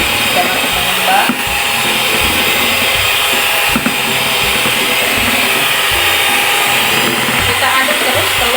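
Electric mixer whipping eggs on its highest speed, a steady loud whirring drone that runs continuously, with faint voices underneath.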